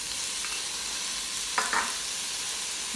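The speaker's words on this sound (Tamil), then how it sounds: "இப்போ நான் வந்து உருளைக்கிழங்கு போடுறேன்" Potatoes tipped into a pan of vegetables frying for kulai sadham, a steady background sizzle broken by a couple of brief stirring scrapes and thumps near the middle, close and without speech.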